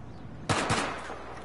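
A short, sudden burst of automatic gunfire in a war video game, a single dense rattle that begins abruptly and trails off quickly, moderately loud with no talk over it.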